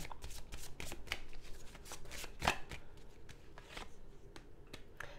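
A tarot deck is shuffled by hand in a quiet room, giving a run of soft, quick card flutters and riffling taps with one sharper snap midway, heard close with no voices.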